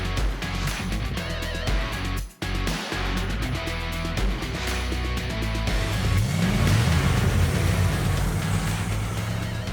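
A 1978 Dodge Aspen street kit car driving, its engine droning steadily from inside the cabin, with a brief dip in sound and then a rising rev as it accelerates.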